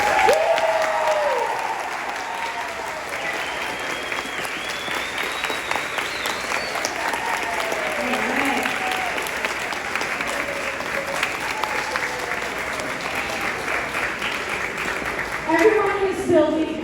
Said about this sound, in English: let's also give a huge round of applause to Mrs.